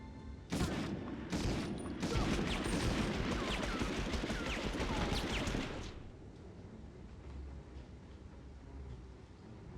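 A Panzerschreck rocket launcher fires and explodes in a PS1 shooter, a sharp blast followed by a few seconds of loud, crackling gunfire and debris before dropping to a quiet room tone.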